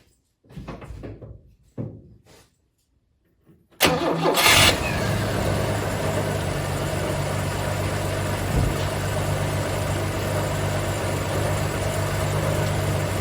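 A Chrysler CM Valiant engine with a freshly cleared carburetor cranks and catches, then settles into a steady, loud idle that runs on without a break after a few quiet moments and brief clunks.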